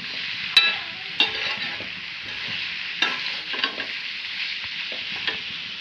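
Bitter gourd (karela) frying in a pan, a steady close sizzle broken by a few sharp scraping stirs and clatters, with no talk.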